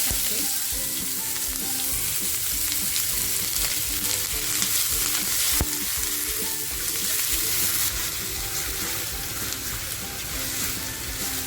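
Chopped onion fries in hot oil in a pan for a dhaba-style tandoori chicken tikka masala, giving a loud continuous sizzle with stirring scrapes mixed in, close up and with no talking.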